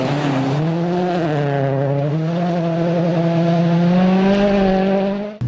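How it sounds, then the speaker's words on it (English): A turbocharged Ford Fiesta regional rally car powers along a stage at Rally Latvia 2013, its engine note loud and close, rising and falling through the revs in a continuous, strained roar. "Turbocharged Fiesta regional rally car working very well indeed."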